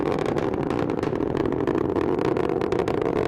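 Steady, dense roar of a rocket's strap-on boosters at full thrust during a launch, a continuous broadband rumble holding level and loud throughout with no voices.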